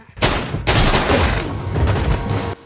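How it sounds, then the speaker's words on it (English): Heavy gunfire from a shootout in a dramatic action scene, a loud, dense volley of overlapping shots that starts abruptly, surges again, and rolls on continuously before cutting off. "Alex got into a shootout with the masked man to see who had better aim"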